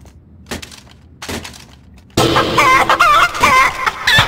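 Chicken techno song in a competitive shooter game, clucks and crowing over a loud electronic beat that starts abruptly midway after a couple of faint isolated clucks.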